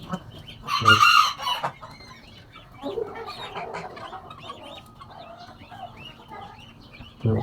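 A rooster crows loudly and close in a backyard coop full of chickens, followed by steady soft clucking and murmuring from many hens, with a few sharper squawks toward the end.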